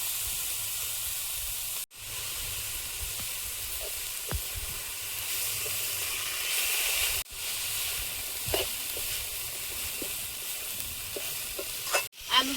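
Chopped banana flower for a Bengali mochar ghonto goes into a pan with ground coriander and cumin, and it sizzles and fries steadily while a spoon stirs and scrapes the pan again and again, with no talking.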